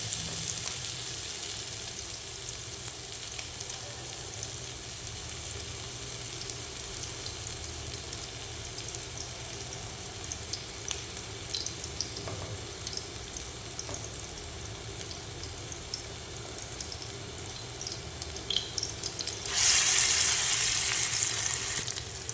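Mutton keema kebabs fry in a pan with a steady, low sizzle throughout, rising to a louder, brighter hiss near the end as more oil spits; no one talks.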